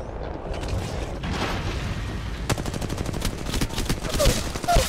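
Rapid bursts of automatic gunfire from the battle royale video game Apex Legends Mobile rattle in quick succession, with dense sustained volleys near the end and faint background game noise between shots.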